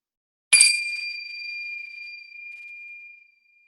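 Nepalese prayer chimes are struck once and ring out alone with a bright, clear metallic tone that starts sharply, then slowly fades over about three seconds into silence.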